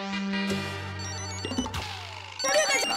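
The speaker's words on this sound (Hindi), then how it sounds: "लगता है किसी का मोबाइल बज रहा है।" A mobile phone ringtone plays loudly in a quiet indoor home, with sustained tonal notes and a melodic pattern that shifts partway through.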